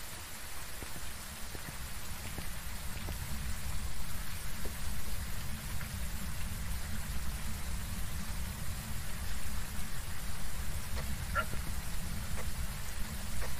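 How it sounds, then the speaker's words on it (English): Heavy rain in the horror video game Phasmophobia pours down in a dense, constant hiss, loud and close, with scattered sharper drop impacts throughout. "The rain is so loud!"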